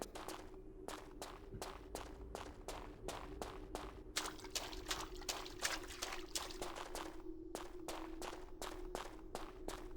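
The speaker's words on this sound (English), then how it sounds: "Oh, there's some water." Water trickling and dripping in Tomb Raider 3, a faint steady flow under a low hum, broken by a rapid run of sharp regular taps that could be footsteps.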